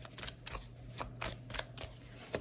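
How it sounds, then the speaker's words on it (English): A stiff, old tarot deck is shuffled by hand, giving quiet, rhythmic bursts of flapping card riffles about every quarter second, close and soft, with no talking. "They're still very stiff, so let's try to work with these cards the best we can."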